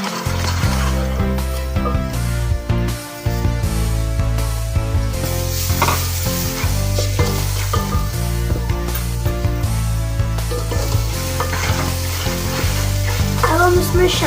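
Spices and tomatoes frying in a pan for an aloo matar curry, giving a steady, loud sizzle that runs unbroken throughout.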